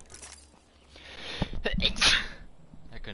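A single sharp sneeze bursts out loud and close, with a quick inhale before it and quiet room noise around it.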